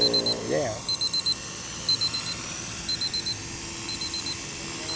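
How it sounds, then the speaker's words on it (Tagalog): Flight timer for a model aircraft sounding as an alarm, with five evenly spaced groups of rapid, piercing beeps at an airfield. A brief voice is heard at the start. "Here how loud the timer is."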